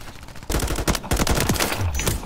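Rapid automatic gunfire bursts from the video game Call of Duty Warzone, loud and dense, with repeated sharp shots running for about two seconds after a brief quieter lead-in.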